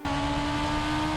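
A ChampCar race car on a qualifying hot lap at Indianapolis holds a steady, loud engine drone throughout, with a constant high-pitched whine over the roar.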